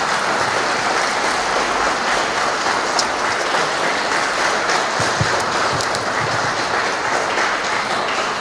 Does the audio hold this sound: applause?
yes